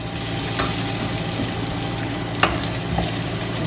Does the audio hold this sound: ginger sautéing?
yes